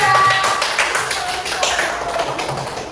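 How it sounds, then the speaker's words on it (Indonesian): Students in a classroom clap for a presenting group, a dense, lively patter of many hands that stays fairly even throughout, with faint voices mixed in. "Beri tepuk tangan ya. Meriah untuk kelompok 2."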